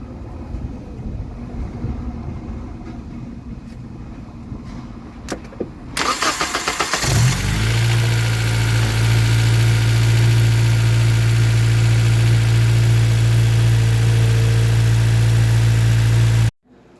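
A Honda K-series engine, before a valve adjustment, cranks and fires about seven seconds in after quiet background noise, then settles into a loud, steady idle that runs until it cuts off abruptly at the end.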